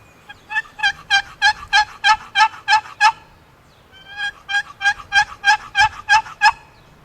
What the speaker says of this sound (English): I'll show you a yelp on this. It's a kind of a deeper sound than most box calls.